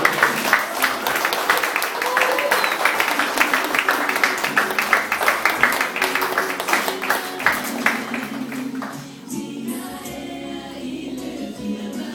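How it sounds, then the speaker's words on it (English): Guests at a wedding ceremony give the bride a sustained round of applause, dense steady clapping from a room full of people that fades out near the end. "give her a round of applause."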